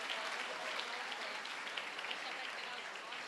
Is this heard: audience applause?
yes